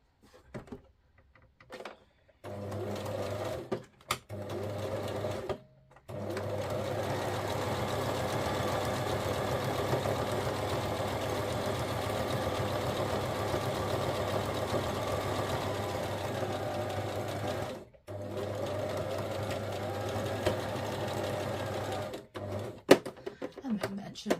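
Sewing machine stitching fabric tab clusters, running in a long steady whirring hum after a few short starts and stops, then halting and restarting briefly; the machine is moderately close and stays fairly quiet.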